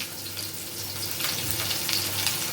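Crucian carp fry in a pan with salt, giving a close, continuous crackling sizzle that grows a little louder partway through.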